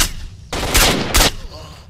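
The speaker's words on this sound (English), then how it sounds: "I love how this gun sounds." Two loud, close gunshots from a weapon in S.T.A.L.K.E.R. Shadow of Chernobyl crack out about half a second apart, each a sharp broadband burst with a short rumbling tail over a low hiss of background.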